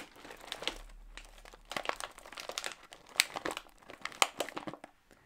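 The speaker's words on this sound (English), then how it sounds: "Now let's just end this video with some crinkles." Plastic grocery packaging crinkled and crumpled up close in bursts of crisp, papery rustling, with short pauses between handlings and no talking.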